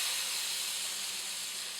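Lamb meat sizzling on a hot oven tray, a steady bright hiss that holds evenly and close from start to finish, with no voices.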